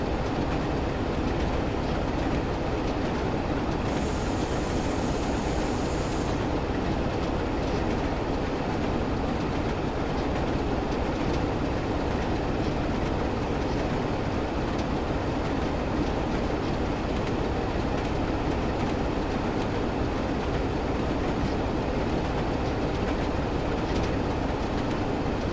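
A Class 47 diesel locomotive in Train Sim World drones steadily for the whole stretch, its engine blended with continuous rail noise and faint clickety-clack from the wheels, with no voices.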